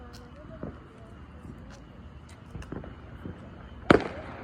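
Distant Fourth of July fireworks pop a few times across several seconds, mostly faint, with one sharper, louder burst near the end and voices talking in the background.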